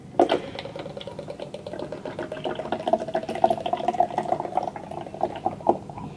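Premier Protein shake is poured into a drink, giving a continuous liquid trickle and splash lasting several seconds, fairly close and moderately loud with no talk.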